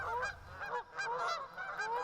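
Geese honk in a string of nasal, repeated calls, fairly faint and heard from a distance, with brief pauses between the bursts.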